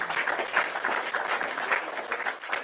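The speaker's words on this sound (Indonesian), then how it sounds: "tepuk tangan" Dense applause from a group, steady and moderately loud throughout with small swells, no voices standing out.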